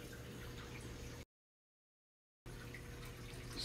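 Water poured from a jar of copepods into a reef aquarium, heard as a steady splashing, gurgling pour that stops briefly in the middle and then resumes.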